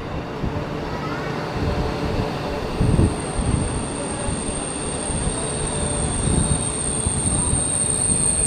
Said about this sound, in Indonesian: Ini dia keretanya datang.